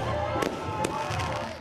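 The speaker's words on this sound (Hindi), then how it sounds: "साल पूरा होने की खुशी में पूरे गांव में पटाखे फूट रहे हैं।" Firecrackers bursting across a village during a celebration, several sharp cracks in quick succession over a busy crowd hum, with voices faintly present in the background.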